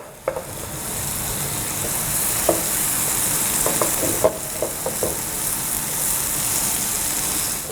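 Sliced green onion bottoms sauté in a pan for crab au gratin, with a steady close sizzle broken by a handful of sharp utensil clicks and scrapes as they are stirred.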